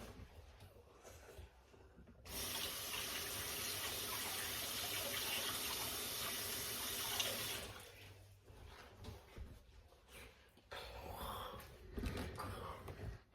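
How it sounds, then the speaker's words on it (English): A kitchen tap runs as hands are rinsed beneath it, a steady close rush of water lasting about five seconds, then quieter splashing and handling noises. "let me rinse my hands"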